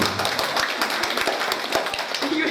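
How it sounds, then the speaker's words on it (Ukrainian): Guests at a birthday gathering applaud as a speaker is introduced, dense steady clapping with a few louder close claps and faint background murmur. "Оплески"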